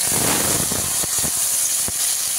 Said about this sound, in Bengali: গুগলিটা ভেজে নেবো অল্প করে